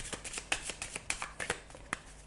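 Petit Lenormand cards shuffled by hand for a reading make a quick run of soft, close riffling snaps and slides in an uneven rhythm, with no talking.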